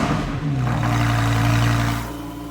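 A Lamborghini Huracán Performante Spyder's 5.2-liter V10 revs up from idle, swelling into a loud, sustained growl before easing back down, close by.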